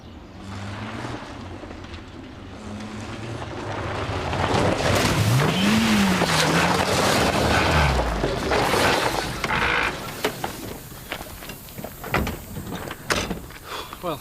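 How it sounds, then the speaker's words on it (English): Car engine from a 2001 Charity Dingle soap scene, revving loudly with a rising and falling whine before cutting out like a blown engine, then quieter clatter afterward. "That didn't sound too good. Sounds like you've blown the engine."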